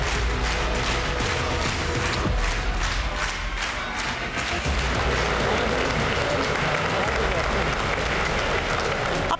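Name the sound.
lawmakers' sustained applause for PM Modi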